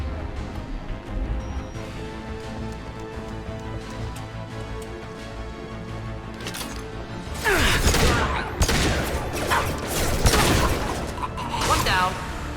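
Rifle gunfire in the video game Mass Effect 2, a dense burst of loud, sharp shots from about the midpoint onward over steady game background sound, with a voice talking over it.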